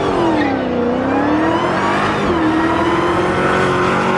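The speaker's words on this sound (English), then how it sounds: "Were those cars? Were those supercars?" Loud, continuous engine note of supercars revving close by, with the pitch falling, climbing and holding steady like high-revving race engines, no voices.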